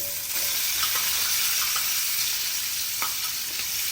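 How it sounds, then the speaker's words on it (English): Chopped onion sizzles and fries steadily in leftover chicken grease in a pan for Hungarian chicken paprikash, a constant close hiss broken by a few faint stirring scrapes. "while our onion is frying"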